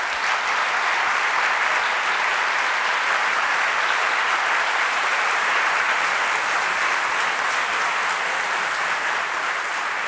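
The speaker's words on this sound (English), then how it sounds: "Please, a round of applause for our speakers." Steady, dense audience applause after a university debate on social responsibility in business, sustained evenly at full strength from start to finish with no voices on top.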